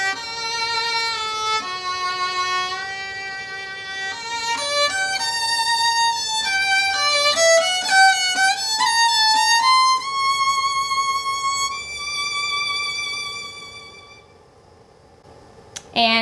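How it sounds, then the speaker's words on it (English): A bowed string instrument played with a practice mute gives a thin, hushed tone, a steady line of clean sustained notes rising and falling for several seconds, close and fairly soft, fading near the end. "And with the practice mute on,"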